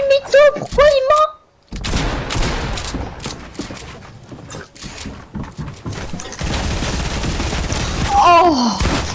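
Rapid bursts of gunfire in the video game Fortnite, dense and sustained through most of the stretch, with excited voices talking over it at the start and end.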